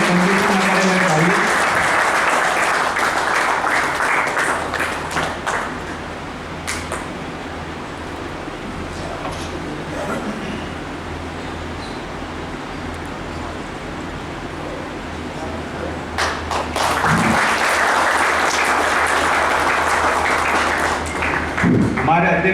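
An audience bursts into loud, sustained applause at a workers' wage agreement gathering, fading to a murmuring hall with voices before a second strong round of clapping swells near the end.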